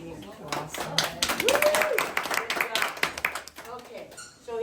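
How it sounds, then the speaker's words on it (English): Sharp hand claps from a child doing jumping jacks, his hands meeting overhead on each jump, repeating in a quick irregular series under adult talk and cheering. "his hands clapped at the top each time."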